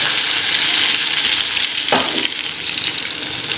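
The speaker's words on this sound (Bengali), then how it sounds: "দেখো মাছটা ভাজা আমার পুরো প্রায়" Fish frying in hot oil in a home kitchen gives a steady, loud, close sizzle that crackles continuously throughout, with a brief stronger spatter partway through and no talking.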